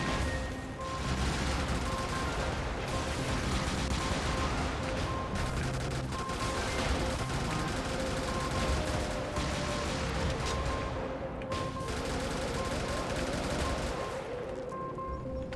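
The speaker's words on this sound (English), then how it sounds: "Big guns sure do sound terrifying." Heavy mech cannons in Brigador fire in a dense, continuous barrage of booming shots and rattling bursts, loud and close throughout, with brief gaps between volleys.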